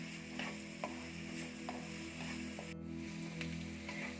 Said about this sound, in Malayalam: നല്ല പോലെ ഒന്ന് വഴറ്റിയെടുക്കണം.